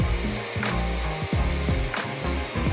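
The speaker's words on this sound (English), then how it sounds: "Then I ran it through the table saw." Table saw ripping through a wood board for a farmhouse nightstand, a steady loud whining drone with slight pitch shifts as the blade cuts.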